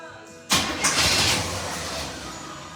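Chevy square body truck engine cranking and firing up, a sudden loud catch after a brief quiet, then settling into a rough, steady run close by with no talking.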